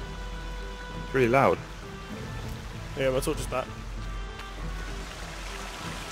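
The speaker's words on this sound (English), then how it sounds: "Can you hear that? Yeah, it's loads of running water." Loud, steady running water in the survival game The Forest, a broad rushing wash that fills the whole clip, while someone talks briefly over it twice.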